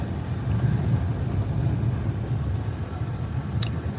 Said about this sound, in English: We're following this taxi right here on the motorcycle.